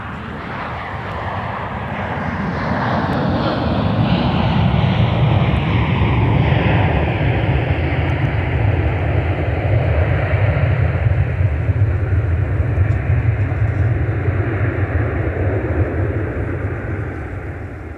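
Aircraft taking off from runway 12 left at Minneapolis–St. Paul airport, a loud, sustained jet roar building over a few seconds and holding steady, its whine gradually sliding lower as it departs.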